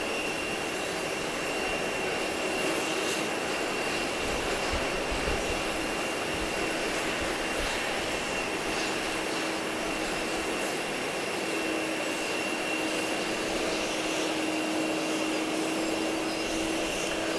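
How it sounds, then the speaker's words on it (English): A Cayman Airways Express Twin Otter turboprop arrives at Grand Cayman, its engines a steady distant drone with a faint turbine whine that holds level throughout, with no talking. "Cayman Airways Express is coming in from Georgetown."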